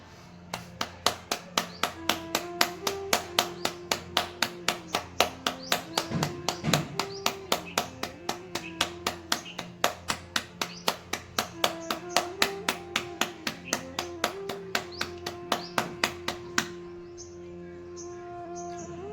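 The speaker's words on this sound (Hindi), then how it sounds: "तालियों के साथ भस्त्रिका करें।" Steady rhythmic hand clapping keeps time during bhastrika yoga breathing, sharp evenly spaced claps repeating for most of the stretch over a sustained musical drone, then stopping abruptly near the end.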